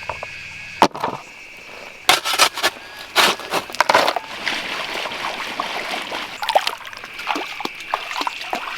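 Gold panning in water: a sweat pan of dirt and black sand swirled and rubbed, with irregular scraping, gritty rattles and splashy trickles close up, no speech.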